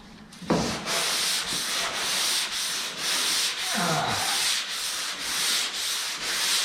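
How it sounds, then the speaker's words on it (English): Repeated back-and-forth strokes of 220 grit sandpaper rubbing primed Camaro Z28 car doors, steady and close, with no talking. "I'm sanding with 220."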